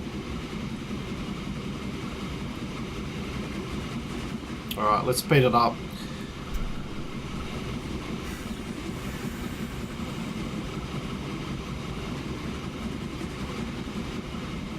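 A freight train rumbles steadily on its track in Transport Fever under a continuous low hum, while someone talks briefly partway through.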